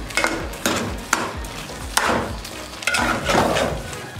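Grated carrots roasting in ghee for gajar ka halwa, stirred in a pan with repeated spoon scrapes and knocks over a soft sizzle, close and fairly loud.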